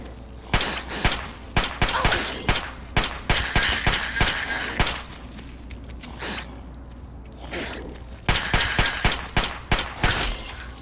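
Pistol gunfire in Fallout 3, a rapid series of sharp, loud shots fired in quick bursts, with a short lull in the middle before another volley of cracks resumes.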